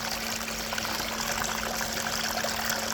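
Stream water flows and trickles continuously over pebbles, a steady close broadband rush with a faint low hum underneath and no voices.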